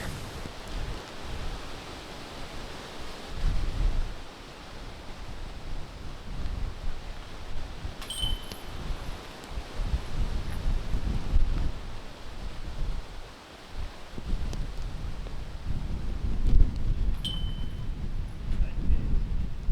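Gusty wind buffets the microphone on an outdoor disc golf course during a pro tournament round in Andalucia, a steady low roar rising and falling in strong surges throughout, with faint high chirps now and then.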